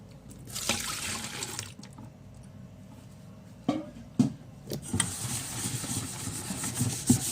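Crust is scrubbed off with water close by: intermittent wet rubbing strokes and sharp scraping bursts, with drips and trickling between them over a quiet background.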